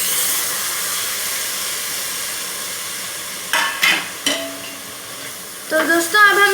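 A spoon works through val beans and turmeric in a cooking pan over a steady sizzling hiss, with a few brief scraping stirs near the end.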